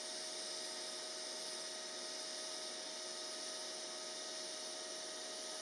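A TIG welding pass with tungsten and 2.4 mm filler rod at 120 A on a Parkside PMSG 200A2 multi-process welder gives a steady, faint hiss and hum that runs unbroken throughout.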